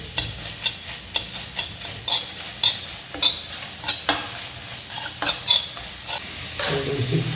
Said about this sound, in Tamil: ஸோ இன்றைக்கி கடுகு எண்ணெயில் தான் பண்ண போகிறேன். வெங்காயம் போட்டாச்சு.